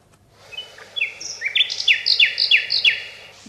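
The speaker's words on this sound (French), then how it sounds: "une petite formule de rossignol" A nightingale sings a short phrase of whistled notes that builds into a rapid series of bright, repeated chirps over faint background hiss, fairly close and clear.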